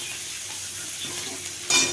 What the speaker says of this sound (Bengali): তো পেঁয়াজটা ভাজা হয়ে গেছে, দিয়ে দিচ্ছি পরিমাণ মতো নুন